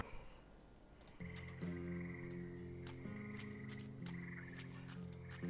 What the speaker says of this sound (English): Now, the frog moved because its preferred position is the second row, and Silly now can't reach her